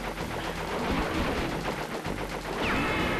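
Rapid mechanical gunfire from a plane in the Crash Bandicoot 3 video game, a dense continuous rattle of shots over busy game sound, steady and loud throughout with no speech.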